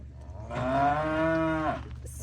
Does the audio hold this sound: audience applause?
no